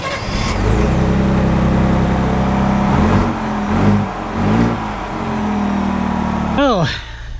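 A 2025 Ford Ranger XLT pickup with the 2.7L V6 pulls away, its engine droning steadily and rising in pitch through several gear changes, close and loud, with a brief whooshing sweep near the end.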